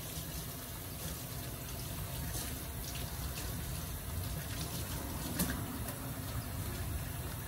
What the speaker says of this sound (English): We're gonna wash our cilantro also.